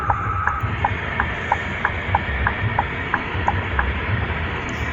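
Engine sound from inside the cabin of a car fitted with an HR Capolista 199 exhaust, a steady low rumble with a faint repeating ticking pattern running throughout, no talk.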